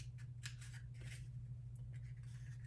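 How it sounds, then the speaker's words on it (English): Small sharp scissors snip through paper in quick, light, irregular cuts, close up and quiet over a steady low hum. "this is where my little scissors can come in handy"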